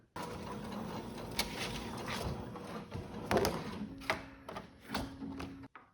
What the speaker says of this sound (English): This is a very standard home printer.